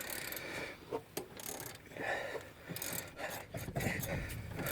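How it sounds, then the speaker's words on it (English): Ratchet wrench undoing tough brake caliper bolts on a Ford Falcon during a front wheel bearing, hub and rotor job, heard as several short bursts of rapid mechanical clicking with brief pauses between them, close up. "after breaking it free, because they're very tough, you just undo the calipers"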